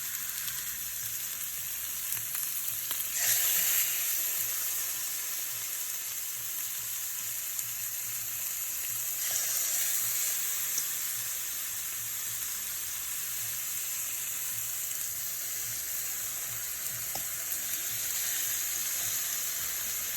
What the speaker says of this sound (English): now they're about to go in the pan